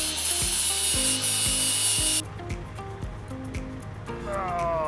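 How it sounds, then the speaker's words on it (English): Angle grinder working on welded metal at an outdoor service yard build, a loud steady abrasive whine for the first two seconds, then cutting out to quieter clattering and knocks with a rising whine near the end. "Just going to grind this a sec."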